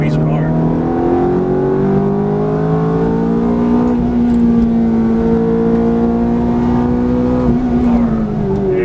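A Ferrari F430 engine pulls hard out of a corner on track, a loud, close, rising drone that climbs steadily in pitch and holds near the top before dipping slightly at the end.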